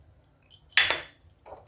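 A spoon scrapes once through a thick coconut sandesh mixture with cardamom powder in a pan. The scrape is a short, fairly loud clatter, with a fainter touch just before it and one after, in an otherwise quiet kitchen.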